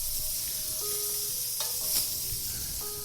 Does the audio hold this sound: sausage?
yes